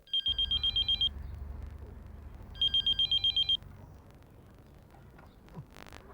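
A telephone rings in two bursts of rapid electronic trills, with a pause between them, over a low steady hum.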